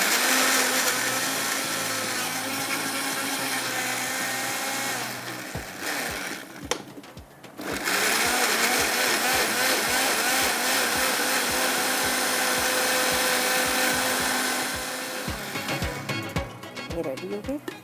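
A kitchen blender grinding chutney without added water: a loud, continuous whirring motor roar that cuts out briefly around the middle, then resumes with a rattling, pulsing grind before fading at the end.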